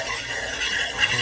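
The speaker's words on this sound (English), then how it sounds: "So we got to constantly stir this." A gumbo base is stirred constantly in a pot, giving a steady, close scraping and rubbing with no pauses.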